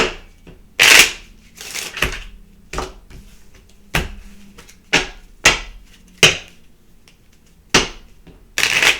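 Moon Witch Oracle cards are shuffled in a series of sharp riffling bursts, roughly a dozen quick rustling snaps spaced about half a second to a second apart, close and clear with no talk.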